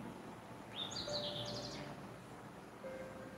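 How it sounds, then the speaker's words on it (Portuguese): Birds sing in a faint, distant outdoor scene: a quick trilling chirp phrase stands out briefly against a low steady background hum. "vamos ouvir passarinho cantando, é melhor"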